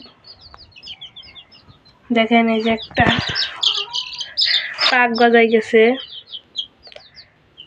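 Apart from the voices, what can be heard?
Sonali chickens clucking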